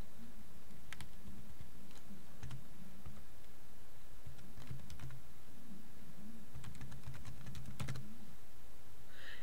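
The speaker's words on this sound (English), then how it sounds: "I'm going to type in Dynamic" Fingers typing on a computer keyboard, quick clustered key clicks in short bursts with brief pauses, close and fairly quiet, no voices.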